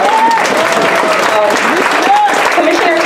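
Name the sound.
audience applauding Commissioner Tony Carter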